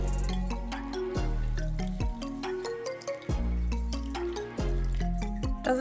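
Water for no-knead bread dough is poured into a container, gurgling up in rising glugs as it fills in several repeated surges, close and clear with no voices.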